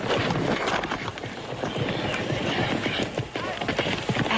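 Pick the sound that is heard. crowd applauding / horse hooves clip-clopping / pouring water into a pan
horse hooves clip-clopping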